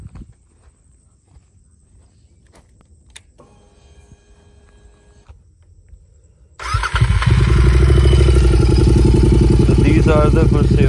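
Royal Enfield GT 650 motorcycle fitted with a modified aftermarket exhaust fires up after quiet shuffling, then idles loud and close with a deep, steady thumping rumble.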